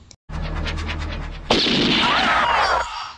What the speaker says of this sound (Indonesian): Thakur pun menembak mati Anjali.